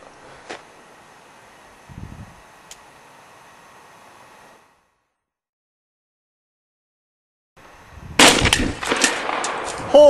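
Gunfire aimed at an old computer monitor in a junkyard: a few isolated sharp shots and a low thud, a stretch of near silence, then a sudden loud burst of violent cracks and clattering debris that stays loud to the end.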